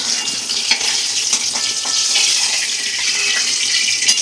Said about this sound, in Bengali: গরম তেলে আলুটা ভেজে নিচ্ছি নুন হলুদ মাখিয়ে।